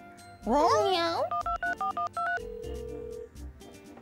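A telephone number being keyed in: a rapid run of about six evenly spaced touch-tone beeps, followed by a longer steady tone, coming right after an animated cartoon voice and heard clearly in the foreground.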